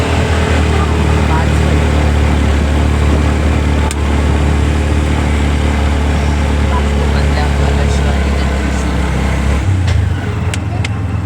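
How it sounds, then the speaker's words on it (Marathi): Auto rickshaw ride away from Chiplun railway station, its small engine droning steadily and loudly throughout with road rumble and a few faint clicks, with no clear talk over it. "आम्ही चिपळूण स्टेशनला उतरून आता रिक्षात बसून घरी चाललो आहे."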